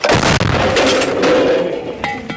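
A single heavy artillery gun blast opens, followed by a long rolling rumble that slowly fades, then a faint clank near the end.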